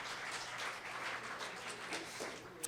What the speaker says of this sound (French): On les applaudit ici.